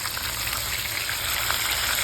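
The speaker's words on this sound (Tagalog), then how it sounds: "kunting prito na lang ito guys at maluluto na siya" A steady, loud sizzle of frying fills the clip, a dense crackling hiss from frog meat cooking in hot oil in a pan close by.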